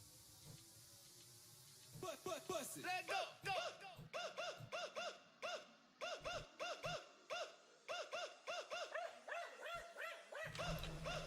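Dog barking over and over in a steady, choppy rhythm of close, fairly loud barks and yips with short gaps, after a quieter stretch at the start.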